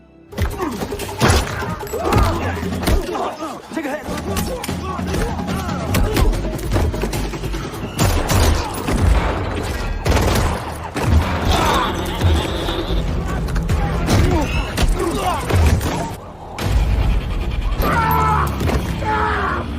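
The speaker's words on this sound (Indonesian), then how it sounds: "hingga terjadilah baku hantam, baku tembak yang sengit dan dramatis" Dense, loud film-fight soundtrack of a fierce, dramatic gun battle and brawl, with bursts of gunfire, shattering impacts, thuds and groans piling over one another almost continuously, with brief speech.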